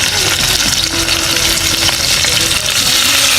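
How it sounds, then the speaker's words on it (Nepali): Vegetables for khichdi sizzle loudly in a pot at a jungle family campsite, a steady broadband hiss with scraping stirs breaking through, close and unbroken with no talk. "पहिले सबै भेजिटेबल्स यसरी हाल्ने पछाडि यसलाई एकछिन फ्राई गर्ने"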